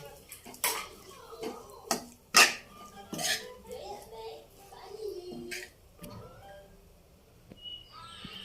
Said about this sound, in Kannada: ಇದನ್ನು ಒಂದು ಸತಿ ಮಿಕ್ಸ್ ಮಾಡ್ಕೊಳ್ಳೋಣ.